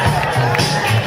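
A crowd cheers and calls out along the final stretch as young children finish a kids' marathon run, a continuous close babble of voices and shouting.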